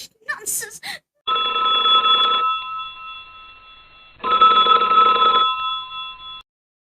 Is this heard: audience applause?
no